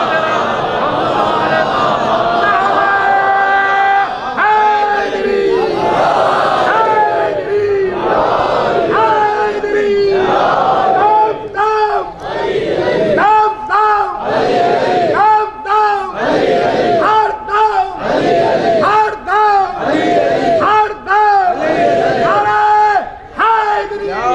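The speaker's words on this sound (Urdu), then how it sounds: "ایک صلوات بلند آواز سے بلند محمد والے۔" A large mourning congregation at a Muharram majlis in an imambargah in Lucknow chants salawat loudly in unison, repeated rhythmic collective cries in rolling waves that fill the hall.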